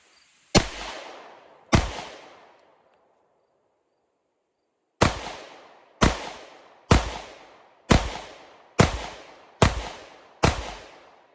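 A Glock pistol at a shooting range fires two loud, close shots, then after a pause a rapid string of seven more, each sharp crack ringing out briefly with no talk over it.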